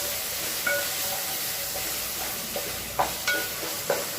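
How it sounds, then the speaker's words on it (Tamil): Tomato masala frying in oil for chicken biryani is stirred in a pan, with a steady loud sizzle and hiss punctuated by a few sharp scrapes and taps of the spoon, no talking. "வந்து நல்லா எல்லாத்தையும் கிளறி விட்டுக்கலாம்"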